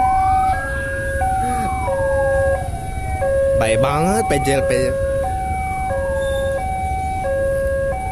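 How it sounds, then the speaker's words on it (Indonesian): An ambulance siren wails continuously at a railway crossing near Rangkasbitung, Banten, its tones stepping up and down loudly throughout, while a brief burst of other warbling horn sounds cuts in midway and a voice talks over it. "Ada ambulan dibuka lagi."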